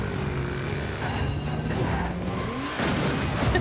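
A stolen police car drives through an action movie chase scene, a steady engine and road roar with whooshing passes and a heavier rumble near the end.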